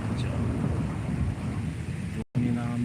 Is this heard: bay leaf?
no